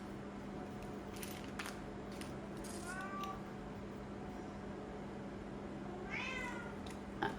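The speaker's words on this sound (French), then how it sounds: "Ah, vous entendez mon chat." A domestic cat meows twice indoors, a short rising call near the middle and a longer one toward the end, over a steady low hum in an otherwise quiet room.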